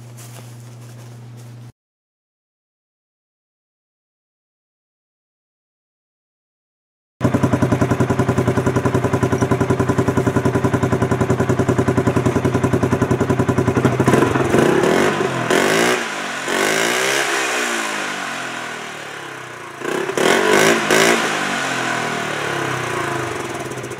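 A 2014 Polaris Sportsman Ace 330 engine idles briefly, goes quiet for several seconds, then starts and runs loud and close, revving up and down repeatedly with rising and falling pitch sweeps.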